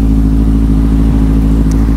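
A Kawasaki Z1000 SX motorcycle engine idles loud and close, a deep steady rumble with even pulsing, alone without voices.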